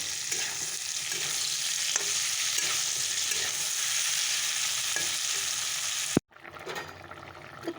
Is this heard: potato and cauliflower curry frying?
yes